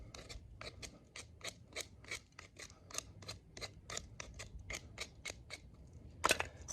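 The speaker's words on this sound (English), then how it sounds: "Just whittle it all down or off." A knife whittles wood into curly shavings for fire starting, making a steady run of about twenty short rasping scrapes at an even rhythm, close and distinct, with no voice over it.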